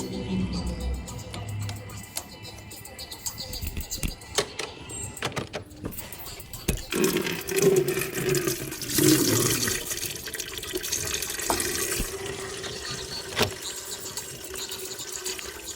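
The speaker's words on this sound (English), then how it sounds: "coolant is going to start to come out" Engine coolant from a 2012 Subaru Legacy spills out of the thermostat housing during a timing belt job, running and splashing continuously into a bucket, swelling louder midway with a few knocks and clanks close by.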